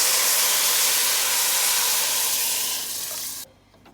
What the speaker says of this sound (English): we're gonna go in with our liquid, and that's the coconut milk